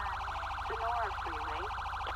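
Police car siren in GTA 5, a steady loud wail cycling rapidly and continuously through the whole moment, with a few short tonal chirps layered over it and a low engine rumble beneath.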